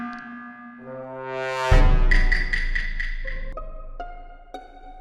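Among Us game sound effect: a low sustained tone with rising harmonics builds to a loud burst, followed by pulsing bright synth stabs and stepped tones, alone and without talk.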